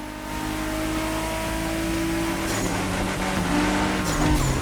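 Race cars in The Crew Motorfest roar through a final race, a loud continuous engine drone with rising revs and a brief tire squeal toward the end.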